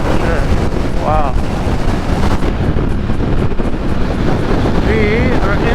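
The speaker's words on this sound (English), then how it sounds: "Oh, it's windy." Strong wind buffets the microphone at a Lake Powell lakeside beach near Lone Rock, roaring continuously and loudly while a voice speaks briefly.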